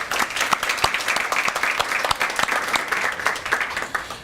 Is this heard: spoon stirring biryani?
no